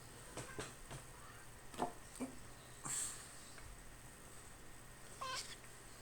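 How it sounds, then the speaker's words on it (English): Cats meowing in short, scattered calls, a few close and fairly clear against a faint background, with several brief cries spread across a few seconds. "Kitties."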